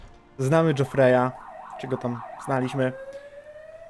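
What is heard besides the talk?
ambulance siren passing outside the window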